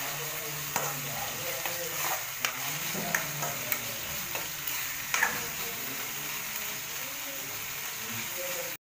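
Curry leaves fry in hot oil, browning slowly. A soft, steady sizzle runs throughout, with occasional spoon scrapes and taps against the pan close by.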